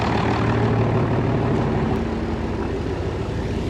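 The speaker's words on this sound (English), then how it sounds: "Get that mixer going." A tractor-driven feed mixer running off the PTO, a steady loud low engine drone with a continuous mechanical hum, close and unbroken, no voices.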